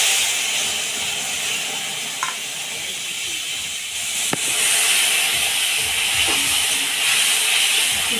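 Dried red chillies and whole five-spice seeds sizzle in hot oil during home cooking, a steady loud hiss with crackling that runs the whole time, plus a couple of brief clinks.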